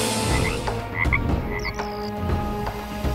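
Frog croaks as a sound effect in a Tamil children's story, a series of loud, close, gurgling calls repeating several times in quick uneven bursts over a busy background, with no speech.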